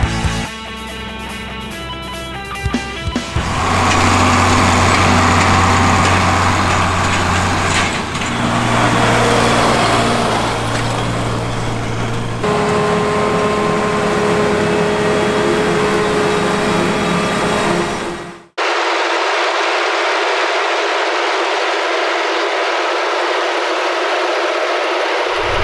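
A tractor pulling a grain cart during a corn silage harvest near Louisville, Ohio, its engine droning loudly with shifting tones and steady hums, then cutting to a thinner, hissing field sound near the end.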